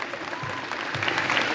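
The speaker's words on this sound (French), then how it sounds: "On peut applaudir Gérard, s'il vous plaît?" A conference audience at a geek days event applauds Gérard with dense, steady clapping from a crowd that swells slightly toward the end.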